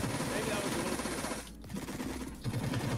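Video game gunfire from Victorr.io rattles in a continuous rapid stream, loud and dense, with a short dip midway before resuming.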